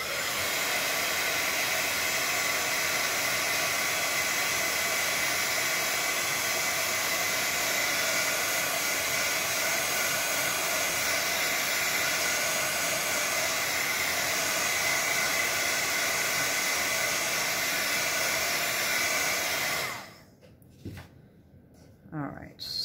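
A hair dryer blows a steady, loud, continuous whoosh while drying a watercolor card, running for about twenty seconds before cutting off, followed by faint handling noises.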